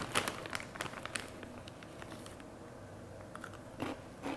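Close, crisp bites into Takis Chilé Limón rolled tortilla chips, a few sharp crunches followed by softer chewing, with quiet pauses between bites.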